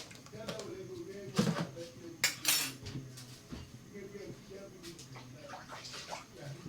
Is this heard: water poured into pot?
yes